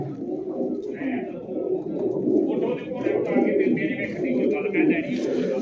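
Pigeons, including a long-beaked female, cooing in soft, repeated low throaty calls close by, with a human voice murmuring alongside.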